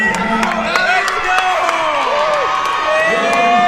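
A home crowd at a basketball game cheers and claps after a made shot, a steady roar with scattered shouts and hand claps while a commentator keeps talking over it.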